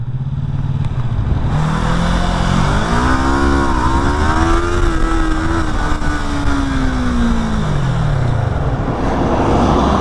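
A motorcycle engine runs loud and close throughout, its pitch rising and then sweeping back down, with clattering mechanical noise underneath, as a rider reacts to something going wrong with the bike during a Turkish road outing.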